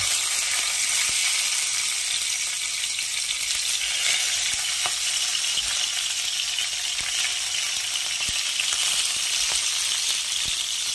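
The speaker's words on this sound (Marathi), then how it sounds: "असा सुंदर तडतड असा आवाज" Mustard seeds, cumin and green chilli crackle in hot oil while dal is being fried, a steady bright sizzle with sharp scattered pops throughout, close and alone.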